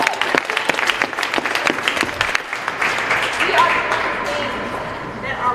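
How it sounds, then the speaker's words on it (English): A large outdoor crowd of high school students at a protest for Amir Locke claps in loud, dense applause that gradually thins and fades, with scattered cheers and voices mixed in. "I need you guys to give yourselves a round of applause"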